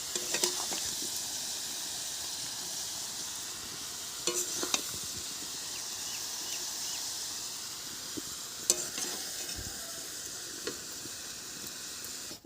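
Potatoes frying in oil in a pan give a steady, close sizzle throughout, with a few light clinks of stirring scattered over it and no voices.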